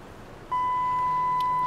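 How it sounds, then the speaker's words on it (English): A single steady electronic beep from an ELVOX door station keypad starts abruptly and holds at one pitch for over a second, close and clear over a faint background hiss. "you hold down number one until it beeps"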